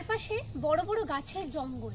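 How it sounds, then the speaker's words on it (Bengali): Crickets and other insects keep up a steady high drone in the Salboni forest, a thin continuous trill running beneath a voice talking over it. "নানা রকম পোকামাকড়ের শব্দ আর ঝিঝির ডাক।"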